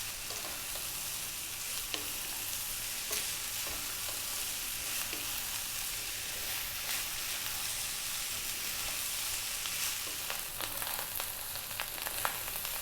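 Chana dal and rice frying in a pan over high heat, stirred the whole time: a steady, close sizzle with occasional scrapes and taps of the spoon, and no voices.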